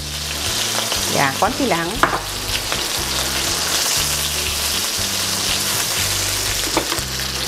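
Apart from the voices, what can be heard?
garlic sizzling in olive oil in a pan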